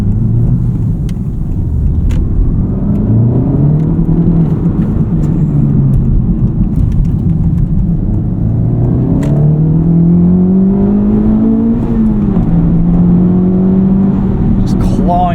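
A 2025 Audi RS3, all-wheel drive, accelerates hard at night, its engine note rising and falling through rapid gear changes as the tires claw for traction; the loud, close engine sound runs continuously with voices talking over it.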